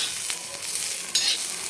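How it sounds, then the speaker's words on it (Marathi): Cluster beans with salt being stirred and sautéed on a flat griddle pan, giving a steady close sizzle with a few sharper scraping strokes of the spatula, no voices. "आणि छान ह्याला परतून घेणार"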